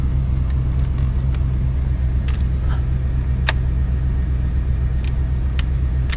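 A 1992 Cadillac Brougham engine idles with a steady low rumble, joined by a few sharp clicks and knocks from nearby, with no voices.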